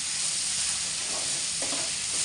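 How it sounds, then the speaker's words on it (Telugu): Curry leaves hit hot oil for carrot and chana dal fry, giving a loud, steady sizzle and hiss with small crackling pops partway through. "కరివేపాకు వేస్తున్నాను"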